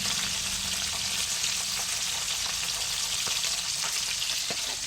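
Fish fries in hot oil with a dense, constant hiss of sizzling and scattered sharp pops of spattering grease, close and loud with no pauses.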